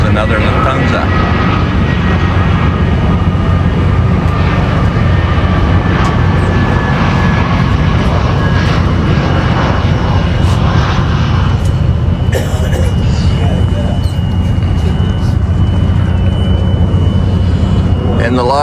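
A Lufthansa airliner passes overhead near Frankfurt, heard from a river cruise ship waiting in a canal lock. Its jet roar is loud and sustained for the whole stretch, with voices murmuring in the background.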